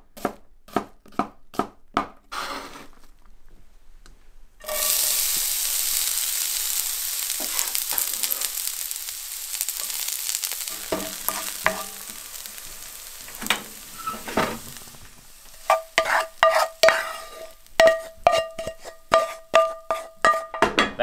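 Rapid knife chops on a cutting board give way to a sudden loud hiss as diced sweet onions drop into a hot pan and fry steadily, then rhythmic utensil clinks and scrapes return over the fading sizzle.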